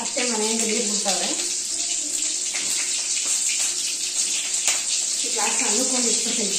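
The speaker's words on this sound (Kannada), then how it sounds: "ಅತ್ತೆ ಮನೆಯಿಂದ ನೀರು ಬಿಡ್ತಾವ್ರೆ." Water released from a relative's house in a village rushes and runs steadily throughout, with voices talking over it at the start and end.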